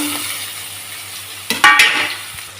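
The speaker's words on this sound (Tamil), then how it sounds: "வெங்காயம் நல்லா வதங்கட்டும்" Onions sautéing in a hot pan for a Tamil-style jackfruit seed fry give a steady, close sizzling hiss, broken near the end by a quick scrape and clink of a spoon stirring against the pan.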